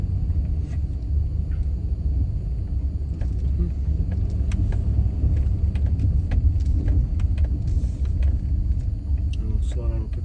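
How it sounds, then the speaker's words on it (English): A car passes on a street in Mobile, Alabama, a steady low rumble that swells and fades over several seconds as it goes by, heard from inside a slow-moving vehicle. "I'll slow down real quick when this car passes."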